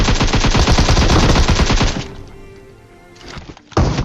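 Rapid, loud, close gunfire bursts from a battle royale video game shooter match, dense repeated shots for two seconds, then a quieter lull and a final sharp blast.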